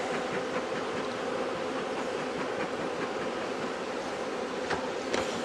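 Honeybees in a large, crowded hive during Connecticut overwintering, a dense, loud, steady buzzing drone that fills the whole stretch with no talking.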